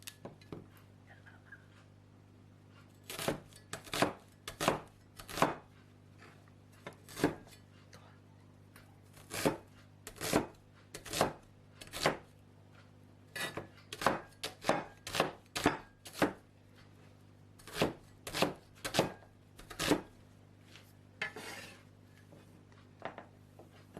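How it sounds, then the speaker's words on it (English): A knife chops an onion into small pieces on a board for a seafood fideuá, with crisp, close chops arriving in uneven bursts and a few pauses between runs. "Cut an onion in small pieces."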